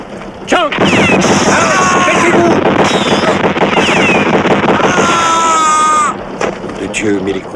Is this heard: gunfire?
yes